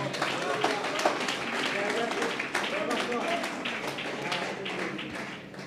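A church congregation claps together during a Spanish-language worship service, the dense clapping running steadily under voices and talk.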